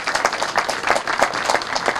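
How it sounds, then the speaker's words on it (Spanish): A brief burst of close, lively audience clapping for a governor and mayor at a government water-aqueduct event, individual claps audible in a quick, uneven rhythm. "un aplauso también al gobernador y al alcalde por ese equipo que ha formado con nosotros"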